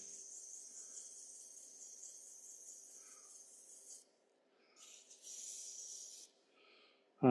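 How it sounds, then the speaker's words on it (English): Sandpaper at 180 grit rubs the inside of a wooden peppermill spinning on a lathe. A faint, thin hiss comes in two stretches separated by a short pause, and a brief sharp noise follows at the end. "so I'll sand that at 180"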